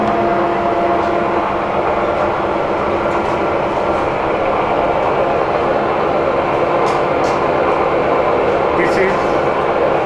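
An all-gear-head universal milling machine runs with its spindle turning, giving a steady, continuous mechanical hum and drone that holds at an even level throughout.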